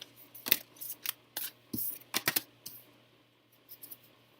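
Tarot cards being drawn and shuffled during a reading, a string of soft papery snaps and flicks at close range, irregular and quiet with pauses between handlings.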